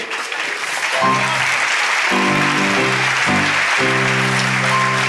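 Loud, continuous audience applause at a comedy talk show in Turkey, building after a brief quieter start and sustained to the end, with musical tones playing underneath.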